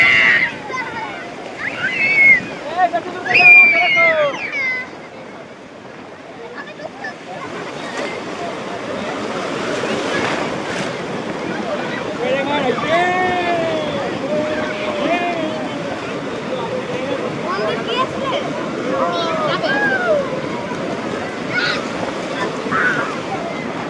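Waves surge and crash on a beach at high tide, a continuous loud wash of surf with wind buffeting the microphone, while people talk and shout over it at the start.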